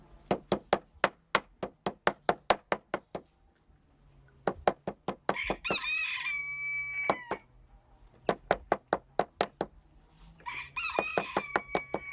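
Roosters crow and chickens cluck in the background between bursts of sharp, rhythmic pounding thuds nearby.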